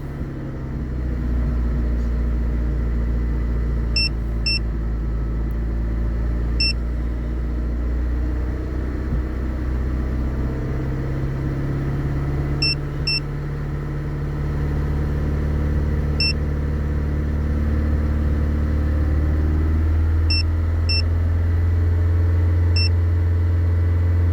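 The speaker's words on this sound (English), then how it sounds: "I'm going to warm up the motor a bit more." Mazda 3 MPS engine idling as it warms up, a steady low rumble held throughout with no one talking, and faint repeated electronic beeps now and then.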